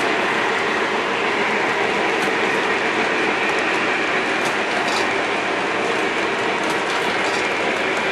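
Steady mechanical whirring and clicking from a model railway ice-loading mechanism at an ice house, like small gears and a ratchet turning, continuous and fairly loud with no talking.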